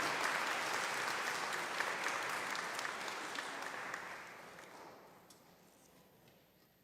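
A church congregation at Sunday Mass claps together in sustained, dense applause that holds steady for several seconds, then thins and fades away, heard from some distance in the room.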